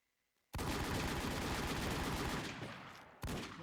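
Loud, sustained gunfire in the shooter game WarZ, a dense burst of rapid shots lasting nearly three seconds, then a short break before another loud burst begins.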